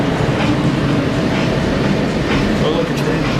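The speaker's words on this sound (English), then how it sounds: "Oh, look, a train." A tram train in Las Vegas passes close by with a steady, loud rolling rumble and rail noise that holds level throughout, with no pause.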